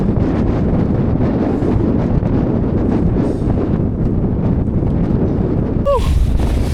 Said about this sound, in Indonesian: Sampai di puncak, cuacanya berubah, dingin, angin